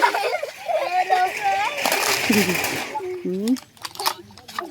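Water is splashed and sloshed during outdoor play, close and lively, while children shout and talk over the splashing.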